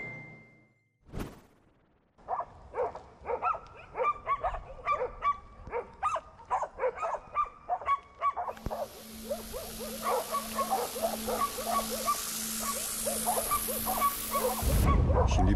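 Dogs bark repeatedly in a rapid, uneven series at moderate distance as wild boars approach in Burhaniye, joined later by a steady engine-like hum and rising noise.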